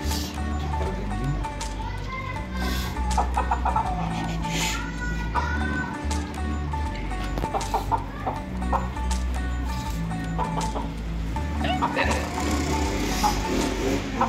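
A domestic rooster clucks repeatedly at a home courtyard during rainy weather, its calls rising over steady background noise and other household sounds, with a person talking at times.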